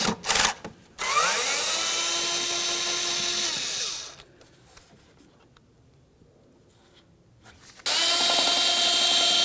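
A power tool spins out T25 Torx screws on the engine of a 2002-2005 Ford Explorer during an idle air control valve replacement, whirring loudly for about three seconds, pausing, then starting again near the end.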